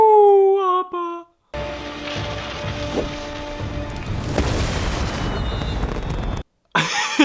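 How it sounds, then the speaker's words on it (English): Fireworks burst in an Avatar: The Last Airbender cartoon scene, a couple of booming pops with crackling tails amid a busy soundtrack, after a brief tonal passage. "Just a bunch of fireworks."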